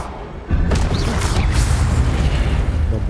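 A blazing Incendio fire spell goes off in Hogwarts Legacy: a sudden loud whooshing burst that swells into a dense, roaring rush of flame and holds steady to the end.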